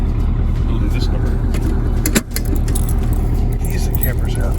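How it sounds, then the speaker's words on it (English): A camper owner's large bunch of keys jangles steadily up close for several seconds, the metallic clinking running continuously over a constant vehicle engine rumble. "Keys that campers have."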